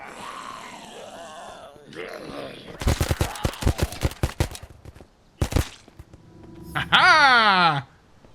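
Rapid bursts of video-game gunfire crackle in quick volleys amid growls and grunts, followed by a rising electronic whine, with a player talking over parts of it.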